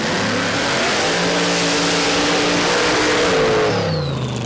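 Pro-class drag racing dragster engine roaring hard down the strip at a Queensland championship round, a loud sustained blast whose pitch climbs steadily before easing off near the end, with no voices over it.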